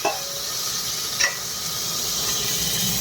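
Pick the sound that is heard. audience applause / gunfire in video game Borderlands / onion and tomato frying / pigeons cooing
onion and tomato frying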